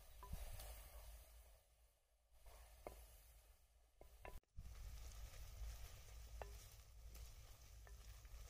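Two onions sizzling in hot oil in a pan while cooking bhindi, a steady quiet frying hiss broken by occasional stirring clinks and scrapes of a spoon.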